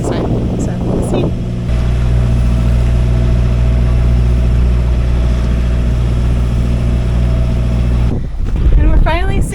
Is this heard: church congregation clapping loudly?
no